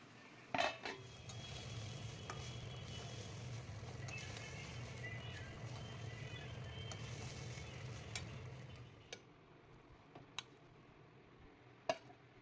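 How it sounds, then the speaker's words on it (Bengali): Pulao ingredients and prawns sauté quietly in a pan, a soft steady sizzle over a low hum with occasional clinks and taps of a spoon against the pan, the frying fading after several seconds to a few sharp knocks. "এটা এবার কষিয়ে নেব, কষিয়ে নিয়ে তারপরে এগুলো তো ভাজাই আছে"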